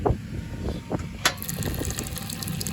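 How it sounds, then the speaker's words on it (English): Water running from a public water bottle refill station in Nashville, a short gushing stream with a few splashes and clicks, close and moderately loud with no talk. "I just refilled my water bottle using this public water bottle refiller."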